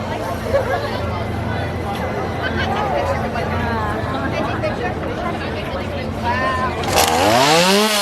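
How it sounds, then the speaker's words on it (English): Chainsaws rev at a Halloween Horror Nights scare zone by a bridge amid crowd chatter and general hubbub, with sharp rising engine sweeps bursting out loudly near the end over voices. "I love the chainsaws, they're amazing."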